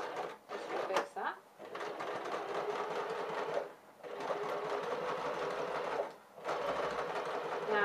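A sewing machine stitches a princess seam in steady bursts of fast mechanical whirring, pausing briefly between runs, close and clear with a voice speaking over parts of it.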